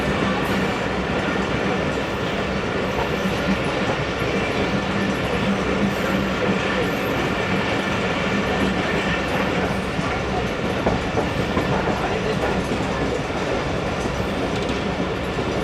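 Karakoram Express passenger train running on rails in a rain-greened stretch between Lahore and Khanewal, a steady loud rumble with clattering wheels and faint squeals throughout, no speech.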